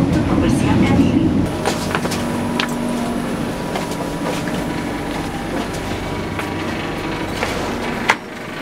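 A Gumarang passenger train arriving at Pasar Senen station in Jakarta, on its Surabaya to Jakarta run, gives a steady, close rolling rumble from the railcars that lasts the whole clip, with a single sharp knock near the end.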